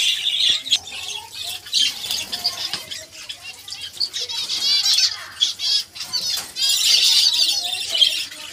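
Many caged birds at a bird breeding farm squawk and chirp continuously, with loud dense calls, wing flapping and rustling close by throughout.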